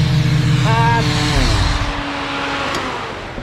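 A repaired supercharged Ford AU car engine idles loudly nearby with a steady low rumble, its tone shifting briefly as it settles into a rough, continuous run.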